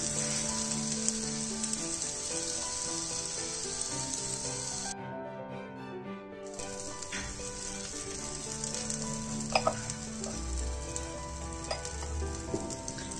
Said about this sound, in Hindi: अब हम इसको एक मिनट के लिए ऐसे ही पकाएंगे मीडियम फ्लेम पे।